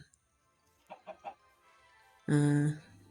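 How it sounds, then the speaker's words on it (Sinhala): Minecraft chickens in survival mode: three short, evenly spaced clucks, then a louder, sustained tonal squawk after a pause, all game sound effects with no talk. "මං හිතුවට වඩා කුකුල්ලෝ ගොඩක් හිටියා."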